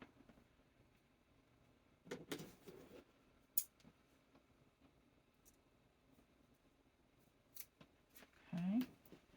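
Scissors snip diamond drill pieces with a few sharp, quiet cuts and clicks close by, separated by near silence, with a brief voice toward the end.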